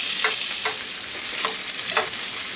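Italian sausages browning in a cast iron skillet give a loud, constant sizzle and spatter, with a few soft pops or turns standing out from it. No voices.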